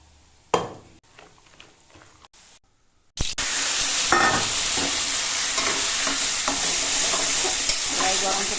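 Hot oil sizzling loudly in a pan while cooking ghugni, a dish seasoned with salt, turmeric and a ground paste of onion, garlic, ginger and black pepper. A few soft kitchen clatters give way to a sudden, steady, close sizzle that runs to the end.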